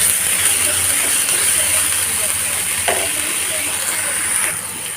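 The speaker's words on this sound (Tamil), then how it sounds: "இஞ்சி பூண்டு பேஸ்ட்டு சேர்த்து 1 நிமிஷம் வந்து வதக்கி விட்டால் போதும்." Ginger garlic paste sautés in a pan for pav bhaji, giving a steady close hiss of frying with a faint scrape of stirring partway through.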